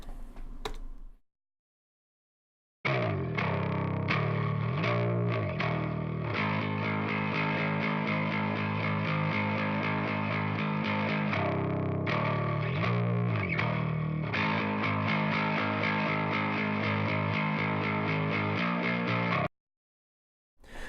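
Electric guitar part mixed toward the high end, a bright distorted effects-laden tone strummed in steady chords for about sixteen seconds, heard alone after a short lead-in and ending in a clean stop.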